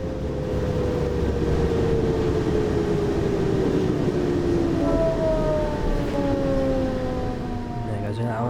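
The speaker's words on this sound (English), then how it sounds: "Braking on now, so I'll send the train down." Railway train braking in the video game Train Sim World on the Hauptstrecke Rhein-Ruhr line, a long steady squeal with tones sliding downward over a continuous low rumble, with a voice talking over it.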